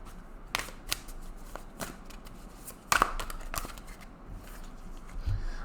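Tarot cards shuffled by hand during a twin flame reading, giving soft papery riffles and a few sharper flicks and snaps spread across the stretch, fairly close and quiet, with no talking.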